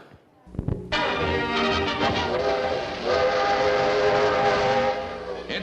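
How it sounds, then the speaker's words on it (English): A train rolls and whistles in an old film excerpt about a friendship train crossing the Utah salt flats and Great Salt Lake trestles, a loud sustained whistle blast over a rumbling, clattering run after a brief start. "the friendship train as it rolls across the salt flats of Utah and roars over the endless trestles spanning Great Salt Lake"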